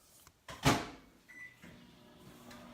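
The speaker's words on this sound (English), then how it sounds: "put that in the microwave for me, please." A microwave oven softening butter in a home kitchen gives a solid door thud, a short beep and then a low, steady hum, all close by, with no talking.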